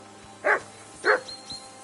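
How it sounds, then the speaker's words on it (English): A dog in Kingdom Come: Deliverance II gives two sharp, close barks about half a second apart, followed by a fainter third yelp, with no voices over them. "Henry! Whistle at that mutt of yours to stop barking!"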